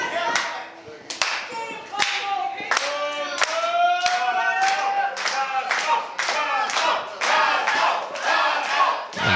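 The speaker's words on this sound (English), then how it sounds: "You hear the crowd solidly behind Cosmo, Orion, and Alissa." A live wrestling crowd at an indoor event cheers and chants in rhythmic unison, with sharp claps and loud vocal bursts rising and falling throughout, fairly close and energetic.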